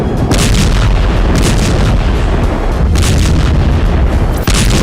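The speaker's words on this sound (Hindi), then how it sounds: "तेज आवाज के साथ बम फटा" White phosphorus bombs burst over buildings in Lebanon, heard as a dense, continuous roar of heavy booms and crackling blasts at high volume, with repeated sharper impacts layered over a constant rumble.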